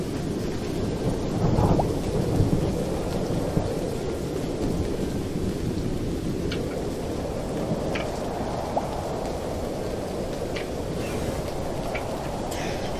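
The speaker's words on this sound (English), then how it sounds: "It is thundering outside with this weird weather." Thunder rumbles through a weather event in the video game YouTubers Life 2, a steady loud roll of storm noise with rain-like hiss that continues throughout and swells slightly near the start.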